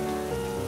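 Steady rain pours down in a cartoon scene, a dense, even wash of drops on a surface with no talking and no break.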